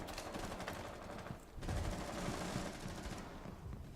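Rapid automatic gunfire from Rainbow Six Siege, dense bursts with a brief lull before heavier, louder firing resumes, filling the whole stretch with layered shots and game noise.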